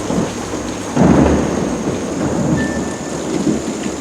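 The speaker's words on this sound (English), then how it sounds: "By this incoming storm" Thunder rumbles under steady heavy rain as a stage storm effect in a King Lear performance, a loud thunderclap surging in after a second and the downpour hissing on continuously.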